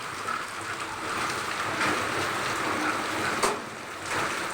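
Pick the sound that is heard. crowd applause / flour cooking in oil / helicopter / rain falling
rain falling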